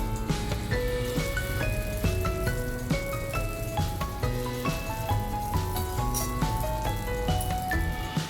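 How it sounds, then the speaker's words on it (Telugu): Oil sizzles steadily on a hot dosa pan for a crisp four-lentil dosa, a soft continuous frying hiss that sits beneath louder melodic background music throughout. "ఇప్పుడు ఆయిల్ వేసుకుంటున్నాను"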